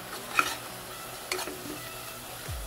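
Tomato and chili powder sauté in a pan for a bitter gourd curd thokku, with a low steady sizzle and a couple of brief scraping stirs of a spoon against the pan.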